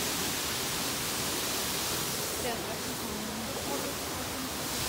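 A waterfall roars in a steady, dense wash of noise that stays even and close throughout, with a faint voice barely rising above it.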